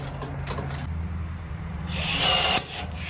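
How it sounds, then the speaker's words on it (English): Pop rivets being set into the end of a broken roller shutter spring with a new riveting tool: a steady mechanical tool noise throughout, swelling into a louder, harsher burst near the end that cuts off abruptly, close and alone. "Grab some rivets, pop a rivet into the end there."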